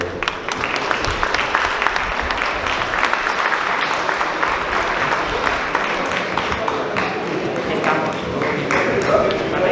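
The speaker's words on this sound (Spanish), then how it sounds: "les solicito que le demos la bienvenida con un aplauso" An audience at a talk on greenhouse crop management gives a welcoming round of applause, a dense continuous wash of clapping that holds at an even level for nearly ten seconds with faint voices mixed in.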